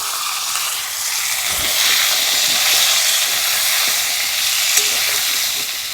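Pumpkin pieces frying in leftover fish oil with mustard seeds and green chillies, a loud continuous close sizzle with a faint clink near the end, no talking.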